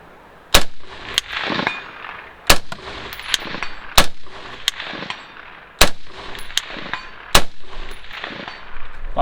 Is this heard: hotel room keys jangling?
no